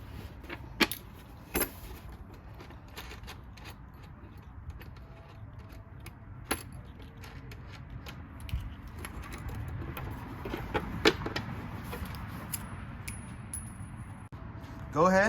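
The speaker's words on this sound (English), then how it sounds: "Let's go ahead and unscrew both of them." Screws are backed out of a car light, giving small, scattered metallic clicks and light rattles close by over a low, steady background.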